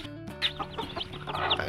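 A black native hen clucks close by beside newly hatched chicks, a run of short throaty clucks with a few high, thin peeps breaking through.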